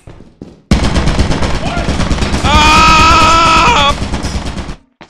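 A gun trap in Lethal Company fires a loud, sustained burst of rapid automatic shots that rise in intensity before cutting off, after a brief spoken exclamation.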